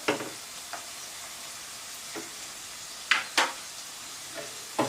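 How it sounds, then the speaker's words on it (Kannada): Beans, carrot and cabbage sizzling in hot oil in a pan, with a steady low fry hiss and several sharp scraping clicks as a spatula stirs the vegetables. "ಇದು ಕೂಡ ಎಣ್ಣೆಯಲ್ಲಿ ಚೆನ್ನಾಗಿ ಫ್ರೈ ಮಾಡ್ಕೊಳ್ಳೋಣ"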